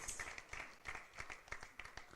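Audience applause at a Jain religious gathering in Chhattisgarh, heard as a faint, steady patter of many hands clapping with loose rhythm and scattered sharper claps, distant and continuous throughout.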